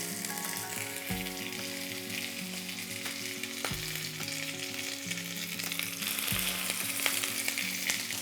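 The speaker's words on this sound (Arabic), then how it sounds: "اول ما تدخن ابيض بنبلش نزيد شقف الدجاج يلي قطعناهم" Chicken pieces fry in hot olive oil in a pan, giving a steady, close sizzle with crackling and spitting throughout. Low thuds recur now and then, and no one speaks.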